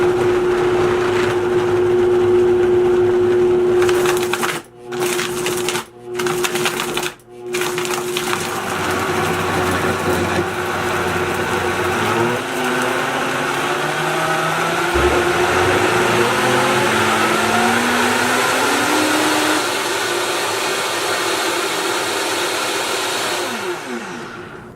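A Vitamix blender whirs loudly through a smoothie of carrots, ice and kale, briefly cutting out a few times before ramping up to a long, steady high-speed roar that shifts in pitch as the contents liquefy.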